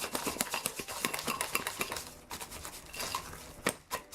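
A whisk beats batter in a bowl, giving quick rhythmic clinks and taps of metal against the bowl that are steady at first and then more scattered, close by, with no talking.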